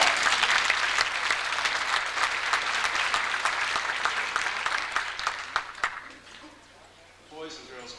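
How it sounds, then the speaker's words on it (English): Audience at a charity gala dinner for a Boys and Girls Club bursts into loud, dense applause that thins out and fades by the end, followed by a voice speaking briefly. "Give yourselves an applause, because you are."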